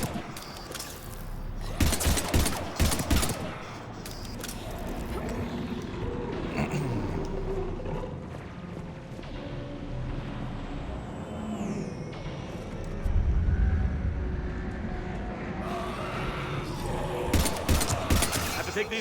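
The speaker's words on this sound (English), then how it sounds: "We're taking heavy fire." Heavy gunfire in the video game Mass Effect 3, with bursts of shots and loud impacts mixed with engine rumble and game noise, rising and falling across the stretch, with voices heard at times.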